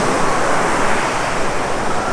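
Ocean waves crash and surge at Waimea Beach on Oahu's North Shore, a loud, continuous roar of surf mixed with wind buffeting the microphone, with no talk.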